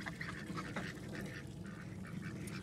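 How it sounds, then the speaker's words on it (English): A flock of farm ducks let out of their pen quack in a steady, busy chorus, overlapping calls close by and fairly loud throughout, with no talking. "out come the ducks again now that I'm out"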